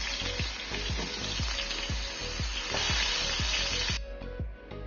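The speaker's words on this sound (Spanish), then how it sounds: "vamos a añadir la otra parte en la sartén para que se sofrite también" Sliced zucchini fries in a pan, making a dense, crackling sizzle close by, with a regular series of soft thuds as pieces are set down, before the frying briefly quiets toward the end.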